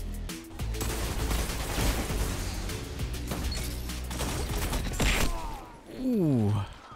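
Rapid gunfire, including a Bonechiller slug shotgun, and explosions in Destiny 2 PvP gameplay, loud dense bursts and booms layered under excited talk, ending with a brief vocal sound.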